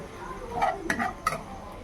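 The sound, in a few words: stirring capsicum in a pan for chilli chicken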